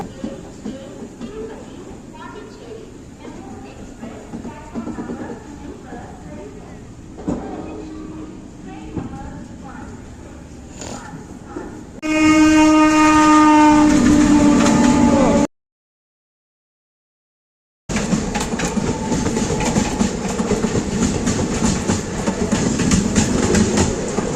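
A Tirupati–Pondicherry MEMU train passes a station platform with rumbling and clattering, and a loud, sustained horn blast sounds near the end, after people talking over station noise.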